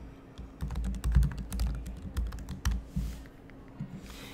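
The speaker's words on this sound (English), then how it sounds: "So I'm gonna type in my username as a student." Fingers type a username on a computer keyboard in a steady run of close, crisp key clicks with uneven rhythm and a few louder strikes, set against a low room hum with no speech.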